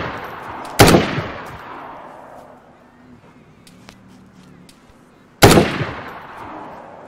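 Two loud, isolated gunshots ring out in the DayZ video game several seconds apart, each with a long echoing decay into a quiet pause.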